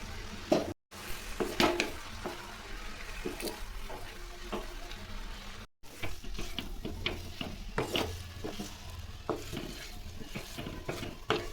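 Drumstick leaves being stir-fried in a pan with ground chilli, garlic and small onions, heard as a soft continuous sizzle broken by repeated scraping and stirring clatter, close and fairly quiet.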